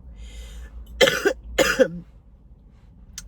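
Two sharp coughs in quick succession, close and fairly loud, followed by quiet room tone.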